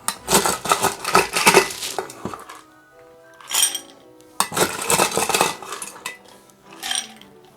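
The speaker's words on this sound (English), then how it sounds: "We'll add some ice to our margarita glass." Ice tumbles into a margarita glass in loud, clustered bursts of clinking and clattering, with short pauses between scoops and a few lighter taps.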